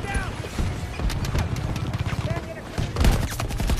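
AK-24 assault rifle fire in Battlefield 2042, repeated bursts of shots amid a busy battlefield soundscape with other weapons and scattered clatter, fairly loud and nearby.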